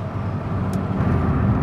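A turbocharged Volkswagen Voyage with an AP engine accelerates under boost, its broad low engine roar steady and loud throughout the short stretch, with no talk.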